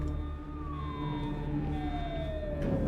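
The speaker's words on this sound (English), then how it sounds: "So why do I hear sirens coming from the observatory?" A distant siren wails in a video game scene at an observatory, its tone sliding slowly downward over a low ambient rumble.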